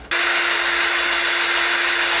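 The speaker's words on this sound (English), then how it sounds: "I guess we're just gonna keep drilling these off." A power drill bores steadily into parts on a Honda CB400 motorcycle during clutch maintenance, starting abruptly and holding a loud, continuous grinding whine with a sustained tonal hum and no voices.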